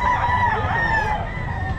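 A rooster crows loudly at a busy pet market in Bocaue, its drawn-out call ringing over a dense bed of market noise and other fowl for the whole short stretch.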